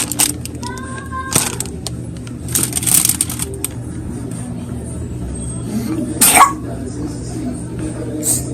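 A few sharp coughs break through a steady low background hum, close by, with brief shuffling noises between them.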